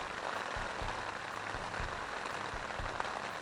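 Rain patters steadily on a DD tarp shelter at a bikepacking camp along the South Downs Way, a dense, even hiss of drops that continues without voices.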